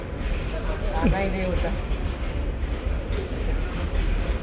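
A train carrying an Ather 450S electric scooter as freight rumbles along steadily with a dense, continuous roar and faint squeals, while people talk over the noise.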